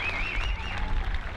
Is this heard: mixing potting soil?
no